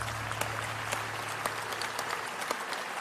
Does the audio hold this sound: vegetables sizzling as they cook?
no